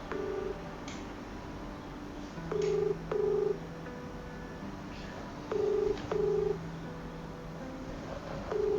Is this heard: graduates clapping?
no